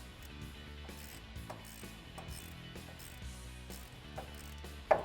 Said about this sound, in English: we can take a ratchet and continue to loosen it up